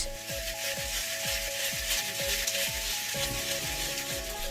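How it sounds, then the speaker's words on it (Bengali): Puffed rice (muri) being hand-fried in a pan by women in Tangail, giving a steady loud sizzle and crackle with rhythmic scraping strokes of stirring repeating throughout, no talking. "ভোর থেকেই নারীরা শুরু করেন মুড়ি ভাজার কাজ"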